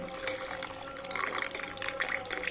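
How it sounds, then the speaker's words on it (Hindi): Water is poured into a finely ground paste of basmati rice and cardamom, a continuous close splashing and trickling pour at moderate volume. "अब इसमें मैं पानी डाल के इसको थोड़ा लिक्विड ही कर लूंगी।"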